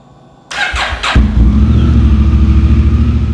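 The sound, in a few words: Honda Africa Twin motorcycle engine starting and warming up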